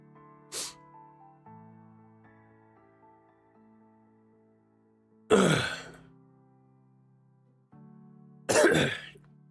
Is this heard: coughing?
yes